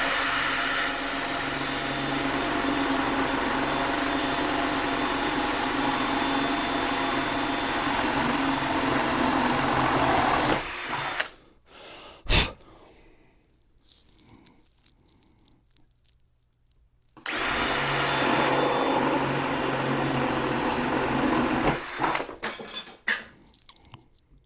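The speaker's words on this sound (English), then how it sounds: "I'm using my drill with the 1/2-inch paddle bit on it" A power drill with a half-inch paddle bit bores out wood corners, whining loudly and continuously for ten seconds, then falls quiet with scattered small knocks and clatter before the drilling starts up again near the end.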